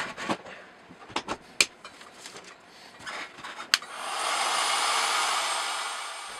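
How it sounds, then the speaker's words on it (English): A hot air gun blows a steady, close whoosh of air as it heats the ends of coat hanger wire. A few sharp handling clicks and knocks come before the air starts. "heat up the ends of my coat hanger wire with my hot air gun"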